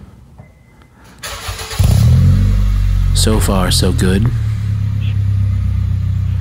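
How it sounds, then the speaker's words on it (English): A Honda Fit fitted with a cheap aftermarket Amazon muffler cranks and starts, then settles into a loud droning idle with a brief rev midway; someone speaks briefly over it. "Let's have a listen, shall we, to this high quality and surely deep-toned exhaust."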